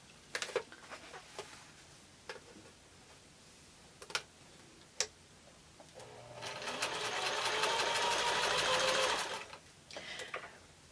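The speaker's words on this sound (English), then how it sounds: "We are sewing on these blue lines" A sewing machine stitches along marked lines on a quilt block, running in a steady, rapid burst for a few seconds after scattered ticks and clicks of handling, with no talk.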